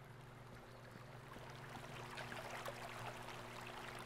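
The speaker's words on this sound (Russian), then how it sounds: "Но я слышу там вода" Water runs and trickles through a sewer in the horror game Cage-Face, a continuous rushing stream that swells slightly over a low droning hum.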